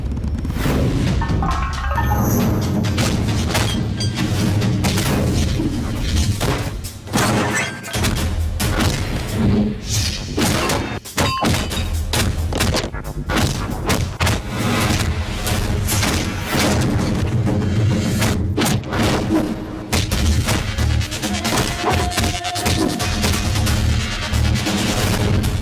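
Punches and heavy blows land in a fight scene from a Hindi-dubbed South Indian action movie, a rapid run of loud thuds and booms over a dense score, with shouted voices mixed in.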